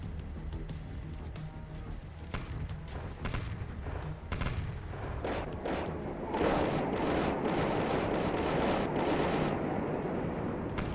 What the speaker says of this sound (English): I do see more shells landing.